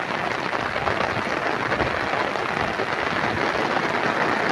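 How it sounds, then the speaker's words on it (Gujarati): Heavy rain pours down steadily over flooded farmland in Deesa taluka, Banaskantha, a dense, continuous roar with no breaks and no voices. "ભારેથી અતિ ભારે વરસાદ"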